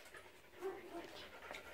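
An old toothless dog, just admitted to an animal rescue shelter in Uruguay, pants softly in quick, faint breaths, heard up close beneath a low murmur of voices.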